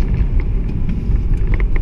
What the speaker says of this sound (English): we use the engine speed to slow down the engine